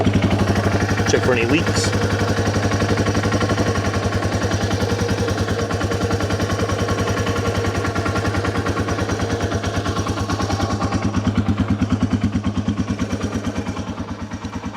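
A Yamaha TW200 motorcycle engine starts and settles into a loud, steady, rapid thumping idle that continues throughout, with someone speaking briefly over it near the start.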